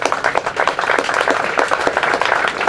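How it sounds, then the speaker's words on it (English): An audience claps for U.S. veterans at a Korean War 73rd anniversary commemoration, with loud, crisp clapping in a fast, uneven rhythm that carries on without pause and no voices above it. "Let's give them a round of applause."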